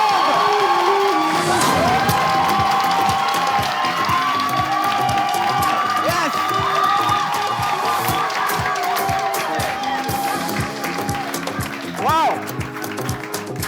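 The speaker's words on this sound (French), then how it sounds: "j'aimerais qu'on fasse un tonnerre d'applaudissements pour les meilleurs stagiaires du monde" A crowd at the grand final debriefing of an animator training programme gives thunderous applause and cheers for the interns, with loud sustained clapping, shouts and whoops under a fairly rhythmic pulse, and voices calling out throughout.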